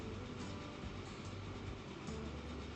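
Trains running on a shared line in Transport Fever 2, a continuous low rumble of rolling rail cars with a faint rhythmic clatter, steady and fairly quiet with no talk.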